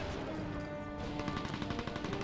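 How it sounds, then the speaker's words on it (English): Artillery strike in the video game Mercenaries: Playground of Destruction, heard as a dense run of rapid blasts and crackling impacts that build in intensity over the last second, layered over continuous game background noise. "And we get the artillery strike."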